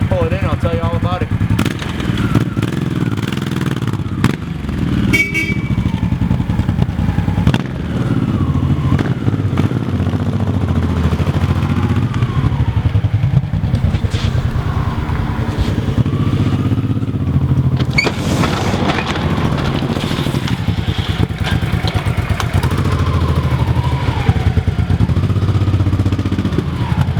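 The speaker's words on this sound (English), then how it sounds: "Just demoing this awesome Honda V-twin for you. I'm going to pull it in" A 1988 Honda VT1100C Shadow V-twin motorcycle rumbles close by, its engine a steady low throb that stays loud throughout, while someone talks over it.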